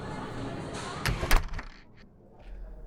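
A door opening as a visitor comes into a professor's office, a short bump and click over room noise, fairly close.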